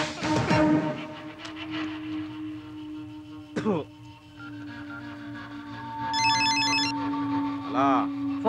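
A telephone rings in a dramatic film scene, with repeated electronic ringing bursts sounding over a sustained musical tone, and a brief sharp hit partway through.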